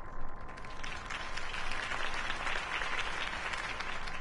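Crowd applause at a political campaign rally for Harvey Dent in the Batman Telltale video game, a dense, steady wash of many hands clapping throughout.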